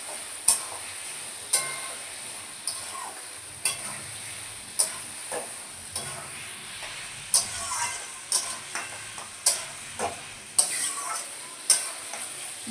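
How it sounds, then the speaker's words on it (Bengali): Mutton sautéed with turmeric in a pan, a soft continuous sizzle under regular, crisp spoon taps and scrapes against the metal, about one a second, with no talking. "হলুদ দিয়ে এবার এটাকে কষাতে শুরু করব।"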